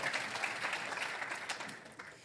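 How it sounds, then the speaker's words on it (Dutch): Applause from a live symposium audience welcoming panel members to the table, steady dense clapping at moderate distance for a couple of seconds, slightly fading toward the end. "En natuurlijk krijgen zij ook een applaus."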